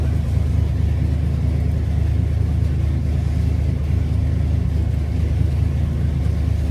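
A Camaro engine rumbles in a deep, steady drone, loud and close with no clear rise or fall in pitch. No voices are heard.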